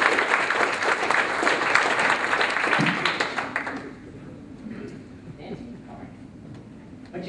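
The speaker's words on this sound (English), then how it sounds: "Round of applause for her." Audience applause for a woman called up on stage at a magic show, a few seconds of clapping that fades out, followed by a quieter room with faint sounds.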